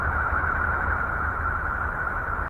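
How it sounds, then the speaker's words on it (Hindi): Voyager spacecraft data from the planet Uranus rendered as sound: a steady, hollow, echoing drone with a constant hiss and low rumble, unchanging throughout and cutting off abruptly at the end. "यूरेनस की आवाज सुनने में हमें गूंजती हुई लगती है।"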